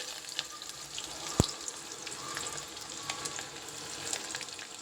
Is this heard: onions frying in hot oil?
yes